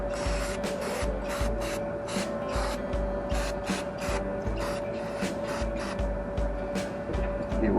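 Aerosol spray cleaner hisses in short repeated bursts onto a part of an Onan 4k generator in a 1989 Winnebago, close and rhythmic, with a steady hum underneath.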